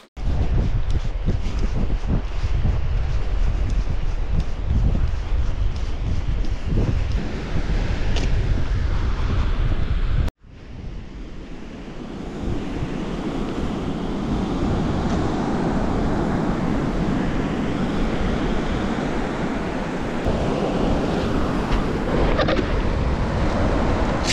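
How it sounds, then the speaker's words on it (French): Strong wind and ocean waves at a surf beach, with heavy wind buffeting on the microphone for about ten seconds, then a steady roar of surf and wind continuing for over ten more seconds, no talking. "Pas mal de vent du coup, la houle est pas terrible"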